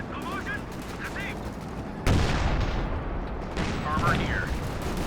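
A 105mm howitzer barrage pounds the field in Company of Heroes 2, rolling gunfire and a sharp loud impact burst around the middle, with a second swell later, under a commentator's voice.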